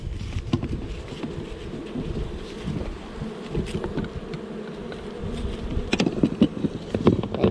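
Honey bees swarm around a hive in North Queensland, a steady close buzzing drone with occasional louder passes near the microphone and soft background rumble.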